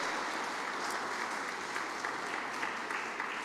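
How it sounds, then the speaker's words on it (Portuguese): A church congregation applauding during a Sunday worship service, a continuous soft wash of many hands clapping, fairly distant and even throughout. "Você pode aplaudir ao Senhor por isso em nome de Jesus?"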